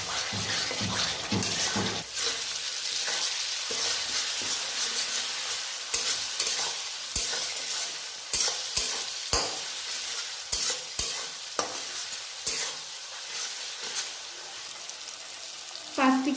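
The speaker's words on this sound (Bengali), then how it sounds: "এবার আমি এই মশলাটাকে ভালো করে কষাবো 5 থেকে 6 মিনিট।" Masala paste for a Bengali lote fish jhal sizzles and fries in a pan while being stirred steadily, with repeated sharp scraping knocks of the spatula; close and fairly loud, with no talking.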